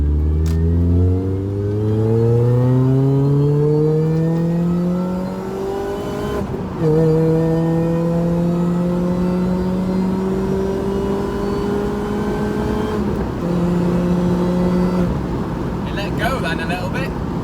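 A tuned Mini Cooper S R53 on a test drive with traction control off, its engine revving loud and close from inside the cabin, pitch climbing steadily through several gears with short dips at each shift.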